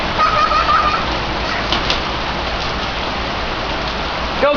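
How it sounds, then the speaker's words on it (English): Heavy summer rain pours down outdoors in a dense, steady hiss with no letup, a faint bird call briefly audible early on. "Whoa, now it's really coming down."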